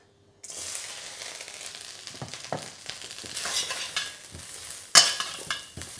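Finely diced carrots hit a high-heat wok for stir-fry. A sudden loud sizzle starts, then rustling stir-frying scrapes follow, with a sharp metallic clank near the end.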